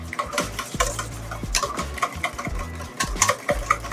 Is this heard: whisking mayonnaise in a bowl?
yes